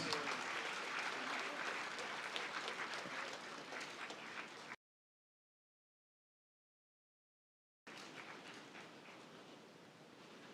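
Audience applause at an award ceremony in Tamil Nadu, a steady wash of many hands clapping, heard in two stretches broken by a silent gap.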